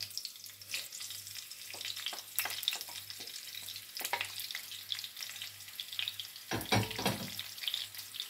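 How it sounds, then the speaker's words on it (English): Red onions frying in a pan for a zucchini flower stew, a continuous close sizzle with crackling spits and occasional stirring scrapes, alone without talk. "Now I will be leaving these onions to get brown."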